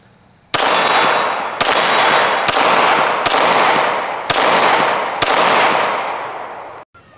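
Six sharp, loud gunshots from a Palmetto State Armory Dagger pistol ring out at about one-second intervals. Each shot carries the bright clang of a steel target and a long ringing decay, with no talk.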